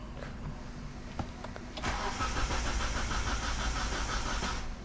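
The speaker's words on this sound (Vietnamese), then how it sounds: "Đề vẫn quay nhưng mà lại không nổ máy." A 2011 Hyundai Avante's starter cranks the engine steadily for about three seconds without it catching, after a quieter stretch with a few clicks, close and fairly loud.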